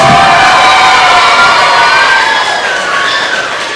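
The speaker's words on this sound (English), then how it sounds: "Haymakers fans, make some noise." A big crowd of baseball fans roars with cheers, whoops and high shouts at an outdoor team-name reveal, loud and sustained before tapering slightly at the end.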